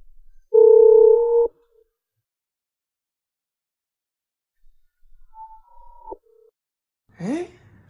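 Phone ringback tones for an unanswered call: a loud steady tone lasting about a second, then a long silence and a second, fainter tone, followed by a brief sighing voice.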